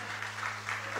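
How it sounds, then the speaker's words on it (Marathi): Applause from the audience at the Mumbai Marathi Journalists' Association award ceremony, a soft, steady wash of clapping heard at a distance over a constant low hum. "जोरदार टाळ्या झाल्या पाहिजेत."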